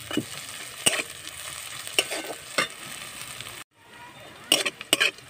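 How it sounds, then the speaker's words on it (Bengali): Sliced onion fries in a pan with nigella seeds and green chillies, a close sizzle marked by intermittent spatula scrapes and clacks, briefly dropping out before the stirring resumes. "তো পেঁয়াজটা আমি একটু ভালো করে ভেজে নেব।"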